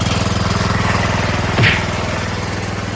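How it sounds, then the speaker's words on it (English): An 11 horsepower flathead lawn tractor engine, taken off a John Deere-type tractor, runs close by with a rapid, even chugging pulse and a brief louder burst midway. "So I've got my 11 horsepower flathead engine here"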